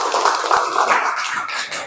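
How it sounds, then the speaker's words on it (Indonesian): Children in a fifth-grade classroom break into applause, a dense, lively patter of many hands clapping together close by, steady throughout and ending with a few scattered claps. "Oke, tepuk tangan semuanya."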